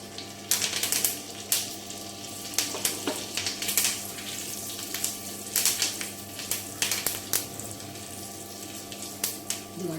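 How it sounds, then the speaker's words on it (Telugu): Ghee tempering of cumin, dried red chilli and curry leaves for moong dal pulusu crackles close up in a steady sizzle, broken by frequent sharp pops and spits throughout. "ఇదిగోండి తాలింపు"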